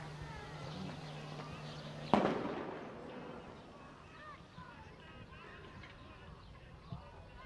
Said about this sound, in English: It's sound bomb.